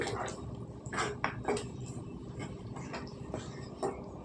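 Pot clatter and cutlery scraping as chicken curry with fenugreek leaves is stirred and a lid is set on the pot; a few sharper metallic clinks over steady low kitchen noise, with no talking.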